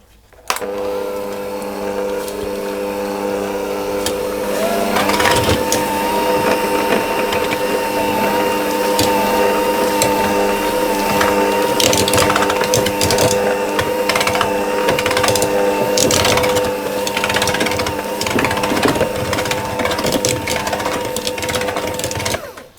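Electric mixer steadily whirring as butter, sugar and milk are beaten together for speculaas pie batter, a loud continuous motor drone with clattering against the bowl throughout.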